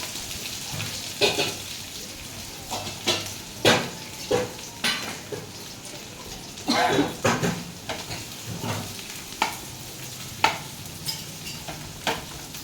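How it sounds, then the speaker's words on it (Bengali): Onions fry in a pan ahead of lote fish, with a soft background sizzle broken by a dozen or so sharp, irregular stirring scrapes and clinks against the pan. "পেঁয়াজগুলো দিয়ে দেবো পেঁয়াজগুলো একটু ভাজা হবে দেন লোটে মাছটা দিয়ে দেবো"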